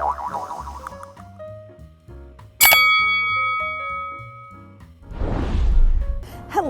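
A bright notification bell strikes once with a sharp ding and a long, shimmering ring. Light electronic music plays around it, and a burst of whooshing noise comes near the end.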